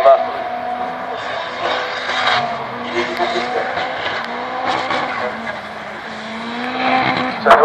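Two drift cars run in close tandem at a 2015 racing festival, engines droning and tires squealing continuously and fairly loud throughout, with a raspy rising and falling tone.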